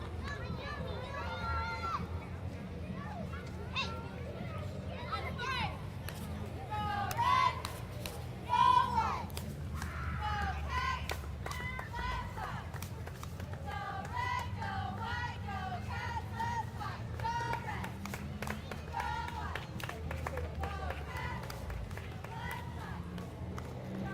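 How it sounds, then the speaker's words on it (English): Cheerleaders chanting and shouting during a county fair parade, lively young voices over a busy outdoor crowd with scattered claps and a couple of louder bursts, continuing throughout. "we've got the cheerleaders. And they're going to do a little cheering for us."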